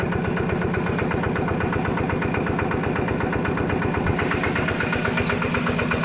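A small Yanmar TF105 diesel engine idles steadily with a fast, even chugging rhythm that stays constant throughout, close by and moderately loud, with no talking.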